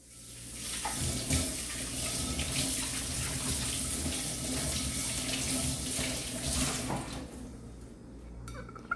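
Running tap water pours steadily into a kitchen sink as a dish is rinsed, a close, continuous splashing flow with light clinks of the plate, ending as the water is shut off near the end.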